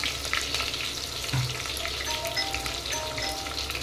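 Onion and green chili fry in a pan with fenugreek already toasted, giving a continuous close sizzle and light crackle with occasional stirring scrapes, no talk.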